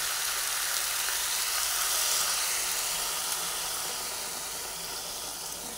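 Hot pan of pumpkin hisses loudly as a small splash of water hits it, a dense, steady sizzle of steam that stays strong throughout and eases off slightly toward the end, with no voices.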